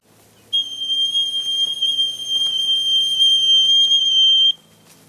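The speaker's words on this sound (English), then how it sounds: "I use a whistle when I feed to call the birds in." A gamekeeper's whistle calling pheasants to a mowed feeding area near a release pen gives one long, steady, shrill tone lasting about four seconds, loud and close, then stops.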